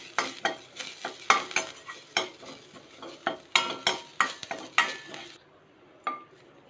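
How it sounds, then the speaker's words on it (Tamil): Garlic roasting in ghee for Andhra paruppu podi, stirred with a metal spoon: a close series of sharp scraping clinks against the pan over a light sizzle, ending in a quieter stretch with one last tap. "இப்போ அந்த நெய்யில் நம்ம இதை வறுத்துக்கலாம். நல்லா ரோஸ்ட் பண்ணிக்கலாம்."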